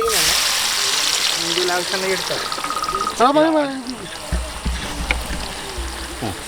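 Onions sizzle steadily in hot oil over high flame for prawn biryani while a person speaks over the frying.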